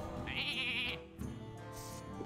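Sheep bleat from a Hearthstone polymorph spell, a wavering bleat in the middle of the clip amid game music and sound effects.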